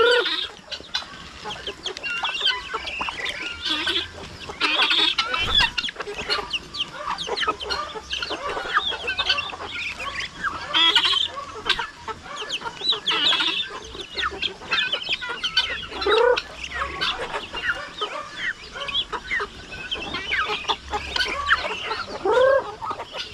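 Chickens clucking at a farm hut, several hens calling continuously at close range with busy overlapping clucks and an occasional rooster-like call, no talk.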